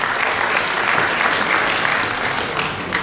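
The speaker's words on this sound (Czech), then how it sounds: "Děkujeme moc a tleskáme na dálku." Audience applause at a Miss Roma 2024 beauty pageant, a steady dense wash of clapping from a crowd that fills the whole stretch at even loudness, with no voices on top.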